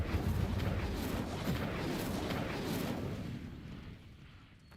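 A fiery Incendio spell bursts out in the Hogwarts Legacy video game, a loud, roaring whoosh of flame with a booming, explosive body that sustains for a few seconds before slowly fading out.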